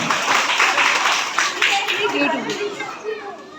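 A crowd of schoolchildren clapping together, the applause steady and busy with lively chatter mixed in, fading a little toward the end.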